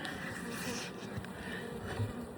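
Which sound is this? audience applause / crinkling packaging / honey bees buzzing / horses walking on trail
honey bees buzzing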